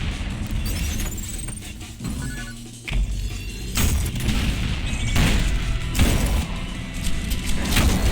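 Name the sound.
shotgun doubling as grenade launcher firing in Ultrakill video game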